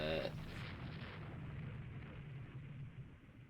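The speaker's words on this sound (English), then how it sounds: "I think she just suffered a magazine detonation because of that torpedo." A warship's magazine detonates after a torpedo hit in the naval strategy game Rule the Waves 3, a sharp burst at the start followed by a heavy rolling rumble that slowly fades over a few seconds.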